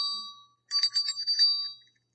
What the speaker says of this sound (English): It's got the little bell on it.